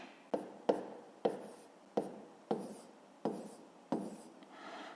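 Pen strokes on paper as numbers are written out by hand for a fifth-grade arithmetic exercise, seven short scratchy strokes in a steady rhythm, close and fairly quiet with no talking.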